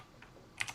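A computer keyboard being typed on gives a couple of quick, soft key clicks close by in a quiet room.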